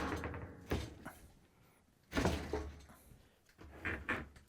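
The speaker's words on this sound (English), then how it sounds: "so we free the dishwasher from the counter" A Maytag dishwasher slides out from under a kitchen counter in a few rough scraping, thudding bursts separated by short quiet gaps.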